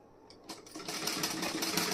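Sewing machine stitching along the edges of garment side and back parts, a steady fast mechanical whir starting after a quiet half second and running continuously, close and fairly loud.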